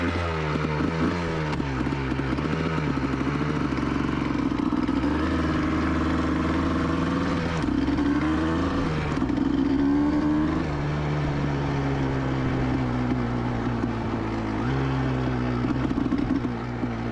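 A motorcycle engine running and revving, a loud steady close drone with rising and falling pitch, no talking.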